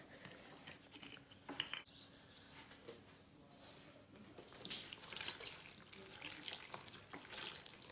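Water is poured and stirred into a salted flour mixture, making a soft trickling and splashing that stays faint and close with a light background hiss.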